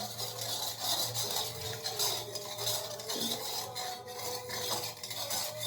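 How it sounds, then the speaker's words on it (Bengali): A spoon scrapes and clinks against a bowl while stirring salt into hot water, a close, rhythmic rubbing and tapping with no voices. "নুনটাকে ভালোভাবে গলিয়ে নিতে হবে জলের সাথে।"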